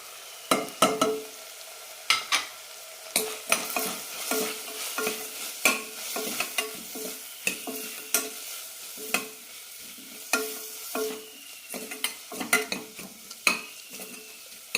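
Turmeric, chilli and roasted coriander powders sautéing in a pan for sweet potato kurma: a low sizzle punctuated by frequent sharp spatula scrapes and taps against the pan, close and rhythmic, no talking.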